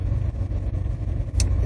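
A car's engine hums steadily as it drives along, heard from inside the cabin, with a constant low rumble of road noise and a brief faint click near the end.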